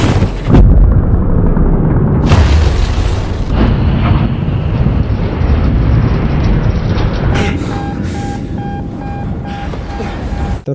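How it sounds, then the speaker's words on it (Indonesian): A torpedo explodes aboard a Russian submarine in a film drama, a heavy continuous roar and rumble with loud bursts that shake the whole scene, no voices over it. "torpedo akhirnya meledak"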